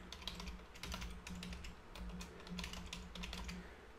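Keys clatter on a computer keyboard in quick, irregular bursts of typing as a web form gets filled in, close and fairly quiet, with a low hum underneath and no talking.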